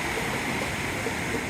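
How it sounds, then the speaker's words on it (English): A continuous roar of rushing water, like ocean waves crashing nearby on the Cinque Terre coast, loud and steady with no pauses. "capturing these mind-blowing and insanely looking waves on camera"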